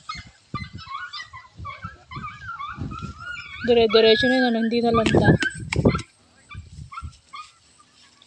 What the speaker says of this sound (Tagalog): Ang daming aso sa kabilang bahay.